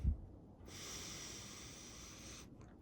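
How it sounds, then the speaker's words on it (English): One slow, deep breath drawn in through the nose. It opens with a short, close snort-like burst, then a long, soft, airy inhale that ends quietly after about two seconds. "let's take a few deep breaths"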